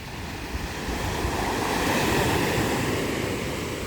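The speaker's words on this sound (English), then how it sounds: "You have reached 4 minutes of beautiful wave sound effects." Ocean waves washing onto a beach as a steady, loud surf roar with a gentle swell in intensity, broadband and continuous with some wind-like hiss and no voices.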